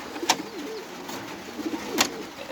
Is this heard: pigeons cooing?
yes